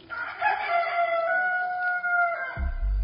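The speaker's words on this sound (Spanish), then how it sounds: "y enseguida cantó un gallo." A rooster crows once in a long, clear, drawn-out cock-a-doodle-doo as a dramatized audio Bible sound effect, loud and close, ending as a low sound starts underneath.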